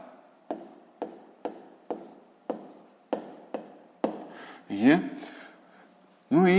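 Pen strokes on paper while writing out a sixth-grade math solution, about eight short evenly spaced scratchy taps, followed by a person talking briefly.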